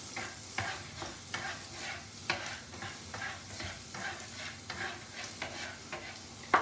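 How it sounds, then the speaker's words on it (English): Garlic frying gently in warm oil, a steady low sizzle broken by regular scraping stirs against the pan, heard up close with no talking. "So first we put the garlic so that the flavor get infused in the oil."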